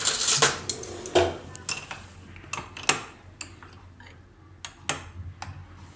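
A spoon stirs strawberry sharbat into cold milk in a glass, giving a scattered series of sharp metallic clinks and taps, closely miked, with quiet gaps in between.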